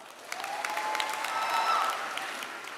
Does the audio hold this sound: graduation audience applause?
yes